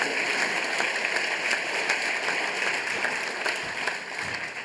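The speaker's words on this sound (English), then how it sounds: "after you give me maybe a hand of applause" Audience applause fills a conference hall at the opening of the Berlin Global Dialogue, a steady, fairly faint wash of many hands clapping that continues evenly throughout without voices.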